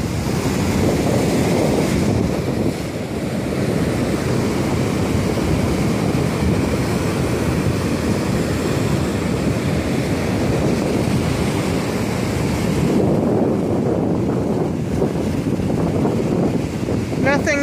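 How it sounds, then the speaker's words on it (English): Rough ocean waves break and wash against a jetty at 37th Street in a steady, loud roar with wind buffeting the microphone throughout. No voices are heard. "Nothing more soothing than the sound of the ocean."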